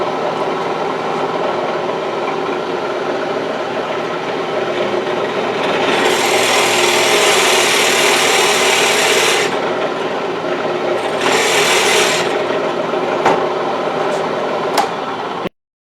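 A drill press bores a hole into a wood blank clamped to the table to make a chuck recess for a turned sushi dish, giving a steady close rasping whir that swells louder through two bursts, then trails off in a few sharp ticks.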